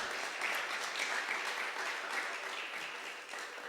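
Audience applauding a guest doctor after her introduction at a talk, dense continuous clapping at fairly steady level that tapers slightly at the end.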